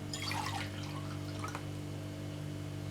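Water pours and splashes briefly into a mixing bowl, a short burst of liquid sound over a steady low hum, then quiet.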